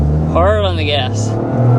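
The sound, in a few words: 2025 Toyota GR Corolla accelerating hard on track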